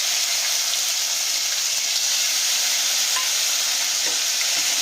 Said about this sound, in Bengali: এই আদা রসুনটাকে আমরা খুব ভালো করে ভেজে নিচ্ছি